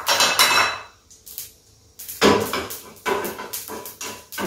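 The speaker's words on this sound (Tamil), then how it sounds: "இந்த கடுகு உளுந்து ரெண்டும் பொரிஞ்சு செவக்குது." Mustard seeds and urad dal spluttering in hot oil for a small batch of coconut chutney, giving loud bursts of sharp crackling pops that come in uneven clusters with brief quieter gaps between them.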